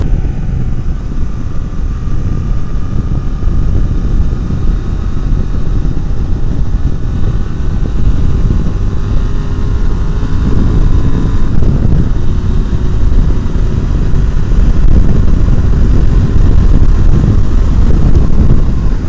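A 2024 Honda Transalp motorcycle cruising along an open road, its steady engine drone blended with heavy, constant wind rush across the whole stretch, loud and unbroken with no voices.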